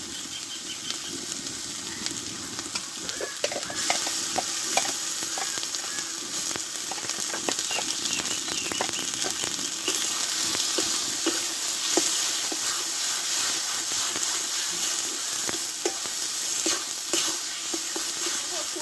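Cauliflower tossed into a cooked-down spice paste crackles and sizzles steadily while being stir-fried, with frequent scraping and clattering stirring strokes close by at an even, fairly loud level.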